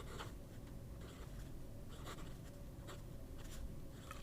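Soft fountain pen nib writing on paper: quiet, continuous scratchy strokes with short rhythmic pauses, close and faint, without any voice.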